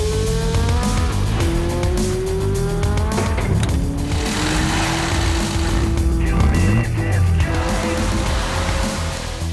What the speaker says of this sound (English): That's a 1965 Austin Mini Cooper S.